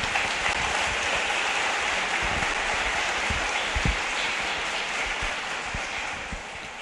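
Applause from a church congregation at an Easter Sunday Mass, honouring a couple's first anniversary; a steady, dense wash of clapping fills the space at moderate loudness, with no talking over it.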